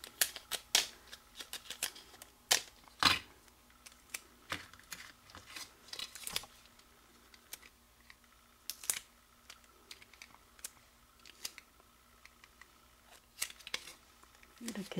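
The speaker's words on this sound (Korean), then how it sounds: "이렇게 스카치 테이프로 우선 붙여 놓겠습니다" Scotch tape is pulled and pressed onto a white paper-weaving flower basket, giving sharp, irregular crackles and ticks close by in quiet surroundings, separated by pauses.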